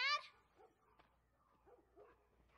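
A dog in The Last of Us gives a few faint, scattered yips and short barks at a distance in a quiet room, separated by pauses.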